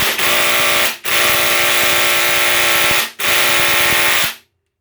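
A Hilti impact driver hammers against a stubborn Hilti screw in two long, loud rattling bursts separated by a short pause, then cuts off to silence.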